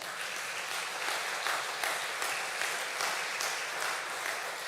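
Sustained applause from a lecture audience, a dense even patter of many hands clapping for several seconds without voices.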